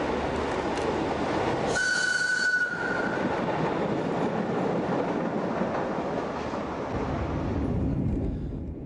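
A Berlin U-Bahn type A2 small-profile subway train runs on the old Line A in a tunnel toward Potsdamer Platz, a steady loud rumble of wheels and rails with a brief high squeal or whistle early on, fading slightly at the end.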